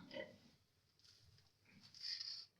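A pregnant pet pig in a pen gives a few soft, short grunts, faint and close, with quiet speech in the background.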